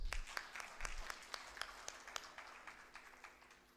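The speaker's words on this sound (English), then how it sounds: "Seema also deserves a round of applause." Scattered audience applause at an Education International event, individual claps standing out against a thin backdrop, tapering off quietly over a few seconds.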